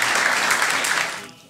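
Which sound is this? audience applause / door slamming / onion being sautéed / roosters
audience applause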